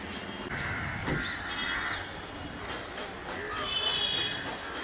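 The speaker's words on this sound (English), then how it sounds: "Crows still add to the noise" Crows caw repeatedly at a garden in India beside a traffic-filled street, harsh calls rising over a steady background rumble, with a voice speaking over the noise.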